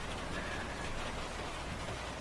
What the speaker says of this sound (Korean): 밤부터 양철지붕 위로 겨울비가 오네요.